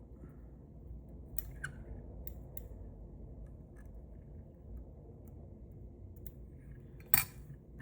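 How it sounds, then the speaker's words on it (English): Scissors snip the butt ends of feathers while a 4/0 musky fly is tied, a few faint crisp cuts over a low background hum, with one sharper snip near the end. "Fold those butt ends. Come in and cut those out."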